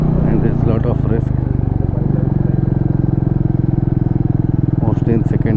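A motorcycle loaded with luggage and carrying a pillion rides a rough, unfamiliar trail near Goa in second and third gear, its engine droning steadily and close with a low rumble. A rider talks over it throughout.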